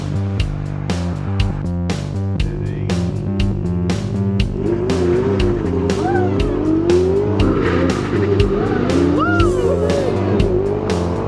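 Tesla Model X P100D launching on a race track, a rising electric whine with tires squealing and swelling in pitch, loud and near, a few short knocks early on and faint voices in the background.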